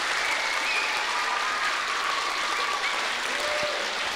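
An audience at a youth mental health forum theatre performance applauding, dense steady clapping that fills the room evenly from start to finish with no voices on top.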